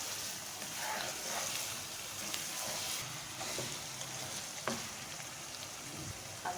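Ginger garlic paste is stirred into mutton frying in a pot, giving a steady soft sizzle with occasional scraping stir sounds, faint and without talk.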